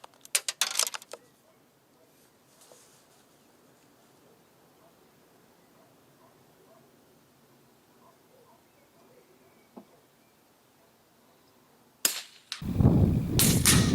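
Sharp rifle shots crack at tin cans set 50 yards out, a .22 against a .17HMR: a burst of reports opens, a lone faint pop comes near ten seconds, and loud cracks and blasts close it, with quiet stretches between.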